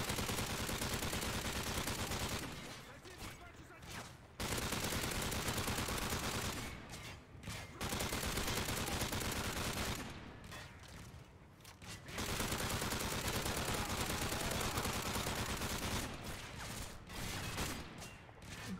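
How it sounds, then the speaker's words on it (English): Sustained automatic gunfire in Modern Warfare 3 Survival mode on the Dome map comes in dense, loud bursts broken by a few short lulls, rattling on almost without pause. "Who the heck is shooting at me now?"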